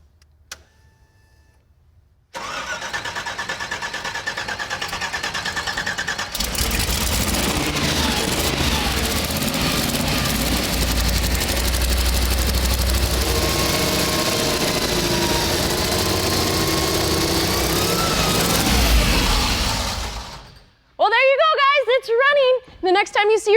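A junkyard Ford Ranger rebuilt as a hardcore off-road truck cranks, fires up and runs loud and steady for about twenty seconds before cutting off, with people talking at the end.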